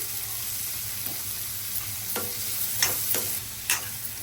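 Thinly sliced onions and green chillies frying in a pan for a broccoli-potato masala curry, a steady close sizzle with a few soft scrapes of a spatula, no voices.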